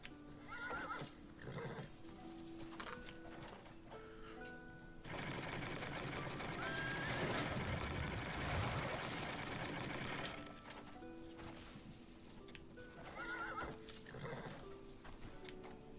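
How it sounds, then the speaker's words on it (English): A horse in the video game Crimson Desert neighs and whinnies repeatedly, with clip-clop hoofbeats and a loud, steady rushing wash in the middle, the whinnies returning near the end. "I got a very talkative horse."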